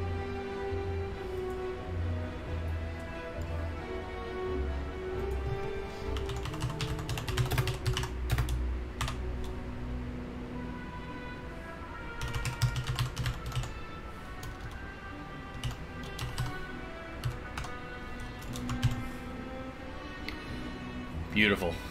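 Rapid bursts of clicky typing on a computer keyboard, close and irregular, sit under steady background music and game sounds.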